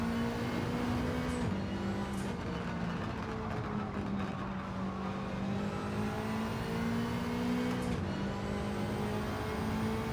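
Race car engine in Gran Turismo 7 holding a steady, loud drone with pitch shifts and a few gear-change dips, continuous throughout with no talk over it.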